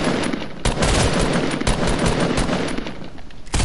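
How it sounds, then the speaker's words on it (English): Hand cannon gunshots crack loudly in a video game firefight, a close burst of repeated heavy shots over dense, continuous battle noise. "hit him for a big hand cannon shot"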